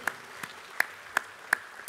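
Faint, evenly spaced claps at a UMNO party general assembly, six sharp hand strikes in a slow steady rhythm with a quiet room behind them.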